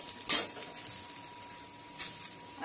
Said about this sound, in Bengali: ফোড়ন দিয়ে দেবো, 2 শুকনো লঙ্কা, 4 তেজপাতা